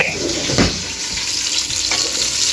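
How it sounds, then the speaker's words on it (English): Onions sizzle loudly in a frying pan, a dense continuous crackling hiss with a few brief knocks from stirring. "And you hear it sizzle like that?"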